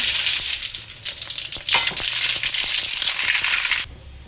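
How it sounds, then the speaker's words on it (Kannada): Mustard seeds hit hot oil for a curd curry, giving a loud, bright, steady sizzle with crackling pops and spatters throughout, ending abruptly just before the close. "ಈಗ ಸಾಸಿವೆನ ಹಾಕ್ಕೊಳ್ಳೋಣ"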